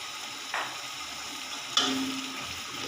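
Carrots and potatoes frying in oil for a vegetable pulao, giving a steady close sizzle with a couple of brief stirring scrapes, no voices.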